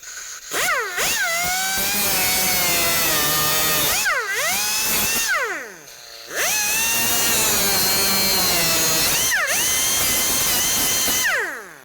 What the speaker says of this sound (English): I like to use my cutoff tool.